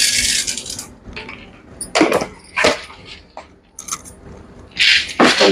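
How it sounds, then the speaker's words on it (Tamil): Mustard seeds and urad dal tipped into a pan for a bean poriyal, heard as short crackling, clattering bursts spread across a few seconds, close and fairly loud with quiet gaps between them. "கொஞ்சம் கடுகு போட்டுக்கலாம். கொஞ்சம் உளுந்து போட்டுக்கலாம்."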